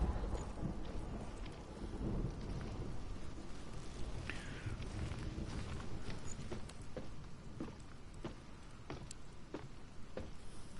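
Rain and rumbling thunder from a storm in the video game Hellblade, a steady wash of rainfall with scattered crackles and low rolling rumbles, fairly faint and continuous.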